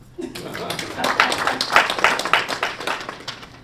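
Audience hands clapping at an Orangeburg County council meeting, a steady patter of many claps filling the room, fairly close and moderately loud, with some voices mixed in.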